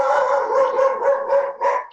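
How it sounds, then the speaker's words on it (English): A dog barks and howls repeatedly somewhere in the room during an online meeting about officiating mechanics, its voice steady and moderately loud with rhythmic pulses throughout. "Whose dog is that?"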